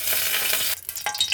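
Crab shallow frying in a little oil: a loud, dense sizzle that holds steady, then breaks into uneven crackles and spits as the pan is stirred.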